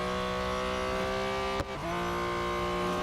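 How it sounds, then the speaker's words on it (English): A BMW M Hybrid V8 race car in a racing video game holds a steady high engine whine, then the pitch drops sharply with a brief dip as it brakes into a curve, and the engine tone settles again after. "here it's braking just where it starts the edge of the curve"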